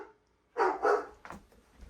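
A pet dog named Ozzy barks indoors, two close, loud barks in quick succession and then a softer yip, with quiet gaps around them.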